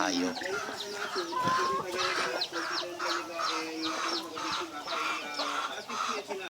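Native chickens cluck and chatter repeatedly in a small backyard, with several birds overlapping in a busy, fairly close flock and no talking.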